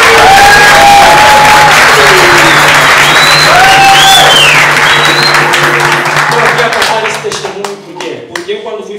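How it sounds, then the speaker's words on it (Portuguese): Audience applause at a capoeira Angola master's graduation ceremony, loud sustained clapping from a crowd over music that thins out and fades into scattered claps near the end. "Uma salva de palmas."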